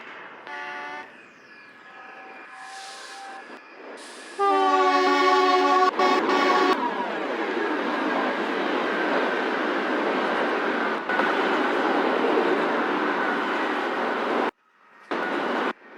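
Simulated trains in the game Trainz at a Shinkansen-style Houston station, with a brief horn blast early on and then a loud, steady rumble of rolling trains and rail noise that continues for most of the scene, dropping out near the end.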